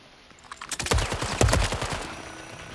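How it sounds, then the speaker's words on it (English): A rapid burst of gunfire rattles through a gunfight in the video game Call of Duty, dozens of close, loud shots in quick succession that swell and then trail off into quieter background noise. "Gunfight."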